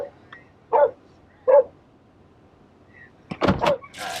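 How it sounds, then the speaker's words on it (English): A few dogs bark in separate short bursts near a delivery driver's car, followed by a louder cluster of barks and scuffling noise. "The thing about these dogs is they chase you in your car."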